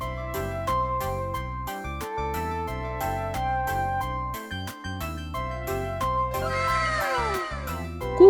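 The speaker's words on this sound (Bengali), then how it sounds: "বিড়াল" A single cat's meow rises and falls near the end, heard over steady, rhythmic background music.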